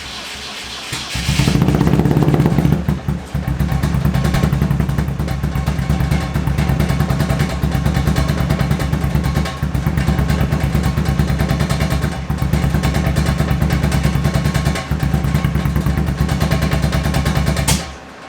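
A BMW E36 drift car fitted with a freshly fabricated custom exhaust fires up with a loud burst, then settles into a steady, rough, uneven idle that rumbles close and continuous for the rest of the clip.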